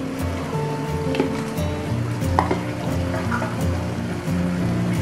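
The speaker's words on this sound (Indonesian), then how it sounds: "Kemudian kita aduk-aduk." Steady stirring and scraping of a crab sauce thickened with cornstarch in a pan over a low sizzle, with faint clinks of the utensil against the metal, continuous and close.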